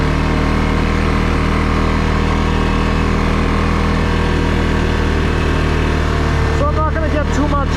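A 2022 CFMOTO CFORCE 600 four-wheel-drive ATV engine drones steadily and loudly while riding, a constant close mechanical hum with wind rush throughout.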